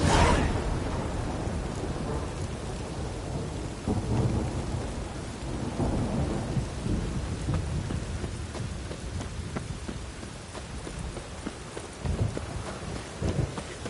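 Steady heavy rain hisses throughout while low thunder rumbles and rolls underneath, swelling in places, with no voices, in the video game The Witcher 3.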